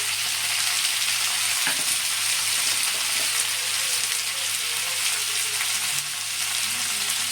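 Tomato pieces and a pinch of turmeric frying in a pan for an eggplant yogurt curry, a steady close sizzle and crackle running throughout with a few faint stirring scrapes.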